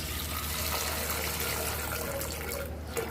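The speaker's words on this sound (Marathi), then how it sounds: "पाणी ओतूया" Water pours steadily from a full jug into a pressure cooker holding chickpeas and a potato, a continuous rushing splash that stays even and close before tapering off at the end.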